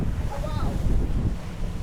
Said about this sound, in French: Et là, je vois qu'il y a pas mal de vagues.